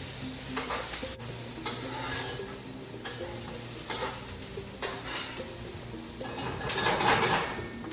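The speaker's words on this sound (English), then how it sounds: "we're going to saute for about 3 to 5 minutes or until the onion is translucent and tender" Onion sautéing in coconut oil sizzles steadily while a big spoon stirs and scrapes the pan in repeated strokes, close and clear, with a louder scraping burst near the end.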